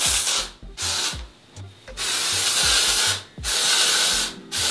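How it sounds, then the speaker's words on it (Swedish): Amika texture spray misted into hair from underneath in several short, loud, close bursts separated by brief pauses, with no talk. "i med en av mina favorittextursprayer, Andan från Amika. Spraya in det underifrån så här."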